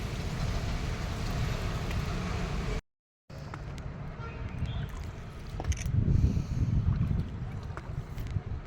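A boat ride on the Dawki River on the India–Bangladesh border in Meghalaya, with a steady motor rumble, water wash and wind buffeting the microphone, a brief dropout early on, and the rumble swelling louder near the end.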